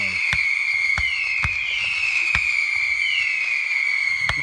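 Fireworks go off in a string of sharp, evenly spaced bangs, about six in quick succession, under a loud, sustained whistling shriek.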